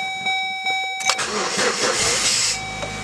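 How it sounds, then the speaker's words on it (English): A 2002 Chevrolet Cavalier cold-starts on a cold day: a short crank bursts into a loud, near engine catch that settles into a steady rough idle. "Doing a cold start video."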